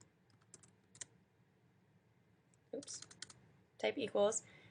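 Keys tapped on a computer keyboard while entering an Excel formula: a few isolated clicks early, then a quicker burst of close typing toward the end, with quiet gaps between.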